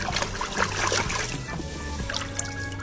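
A muddy toy being rinsed in a big tub of water, with soft trickling and dribbling splashes running steadily up close for a few seconds.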